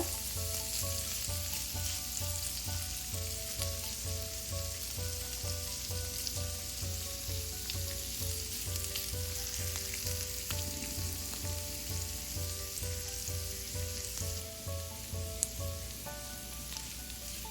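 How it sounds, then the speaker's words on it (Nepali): Tender bamboo shoots fry in a pan with a constant close sizzle and repeated stirring scrapes, a brief clatter near the end, under soft rhythmic background music without speech. "यसरी चलाउँदै चलाउँदै यसलाई केही बेर भुट्नुपर्छ।"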